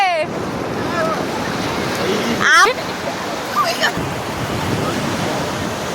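Sea surf rolls onto the shore as a constant loud wash with wind buffeting the microphone, while voices and a few short calls break in over it.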